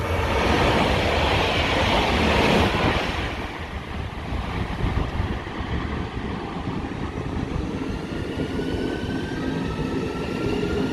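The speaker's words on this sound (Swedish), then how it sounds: "1949-tåget till Ystad som ska åka från spår 3 nu" A 1949 vintage train on the Ystad line pulls away from platform 3, a steady loud rumble with a brief louder surge near the start, continuous without speech.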